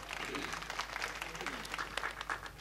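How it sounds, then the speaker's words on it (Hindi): An audience claps at a Hindi kavi sammelan poetry recital, a bright patter of hands with scattered sharper claps, somewhat distant and moderately loud. "एक बार ताली बजा करके आप इजाजत दो"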